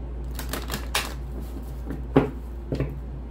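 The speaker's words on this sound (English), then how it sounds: "One more shuffle" Tarot cards are shuffled close by in a quiet room, giving a few short papery riffles and soft taps spread unevenly over a few seconds.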